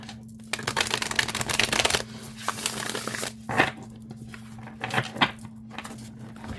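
A large illustrated Heart's Path Tarot deck is shuffled by hand in close, crisp bursts of riffling and flicking cards, separated by short pauses.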